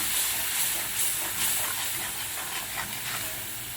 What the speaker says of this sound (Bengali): মশলাটা দিয়ে ভালো করে নাড়িয়ে নেব মানে কষিয়ে নেব মশলাটা